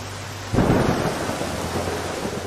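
Heavy rain pours steadily in the jungle as a loud, close thunderclap bursts in and rolls on beneath the constant hiss of downpour.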